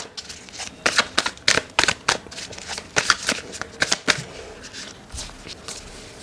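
Tarot cards are shuffled in quick, crisp riffling bursts, near and fairly loud, the rhythm easing toward the end.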